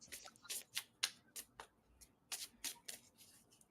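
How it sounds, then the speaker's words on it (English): Tarot cards riffle and flick in quick bursts, a soft crisp pattering close by with short pauses between shuffles. "She's looking at the deck while I shuffle"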